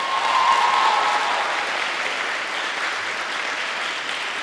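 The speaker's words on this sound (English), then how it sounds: "can you have one big round of applause for all the best speakers?" Audience applause at the final of an international debate tournament, steady dense clapping from a large crowd that holds throughout, slightly fuller at the start, with a faint brief tone early on.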